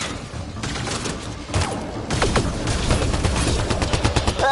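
Sustained automatic gunfire in a PS4 shooter, loud and continuous with overlapping rapid shots and occasional heavier impacts building through the moment, no talking.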